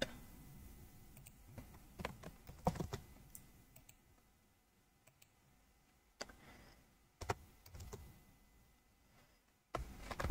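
Sparse keyboard typing while writing code, a few scattered soft taps and small clusters of clicks separated by near silence.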